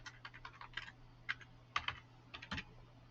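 Login credentials typed on a computer keyboard: quick, close clicking keystrokes in uneven bursts with brief pauses between them, and no voices.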